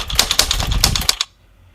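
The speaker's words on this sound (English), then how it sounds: "That's how you do the typewriter effect." Typewriter keys clatter in a fast, steady run of sharp strikes with a bell-like ding near the end, loud and close, then stopping abruptly into silence; sped up.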